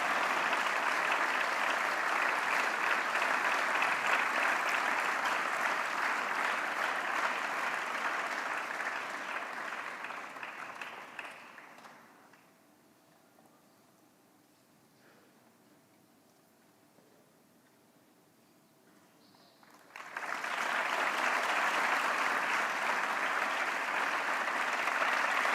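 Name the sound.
audience applause at festival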